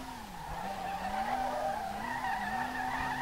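Car tyres skid and squeal continuously through a sustained drift in the driving game SLRR, a steady wavering screech layered over a loud, constant engine drone with no pauses.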